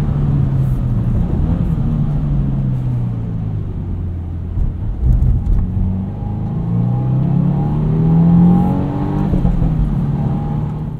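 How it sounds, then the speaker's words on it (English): A 2022 Subaru WRX Premium with a turbocharged engine and 6-speed manual gearbox rumbles from inside the cabin, climbing in revs and dropping sharply at each gear change, then pulling again, loud and continuous. "Look at those shifts. Zero rev hang at red line between gears."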